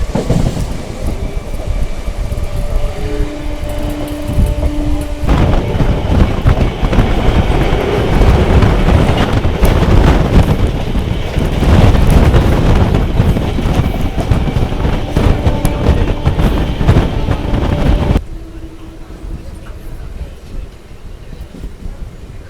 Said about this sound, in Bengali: পাশে যে ট্রেনটা দেখছো ট্রেন নাম্বার হচ্ছে 37747। এটা হচ্ছে ব্যান্ডেল কাটোয়া লোকাল